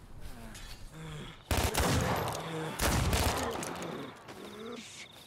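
Gunfire in the zombie survival shooter Contagion during extraction gameplay: two loud bursts of rapid shots ring out amid a noisy game scene, with faint tonal game sounds before and after.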